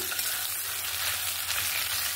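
A fish head fries in oil in a kadai, giving a steady close crackling sizzle with a constant bright hiss and no talking.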